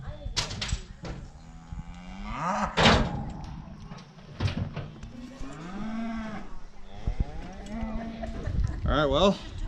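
A show cow moos repeatedly during hoof trimming, with several drawn-out, loud calls among metallic clanks and thuds from the trimming setup.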